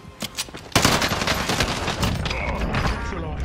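Video game gunfire in a combat scene, with a few scattered shots giving way to sustained rapid bursts of automatic fire, loud and dense, while voices talk over it.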